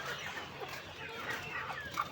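Isa Brown commercial layer roosters cluck softly, faint and somewhat distant, in a few brief calls with no talk.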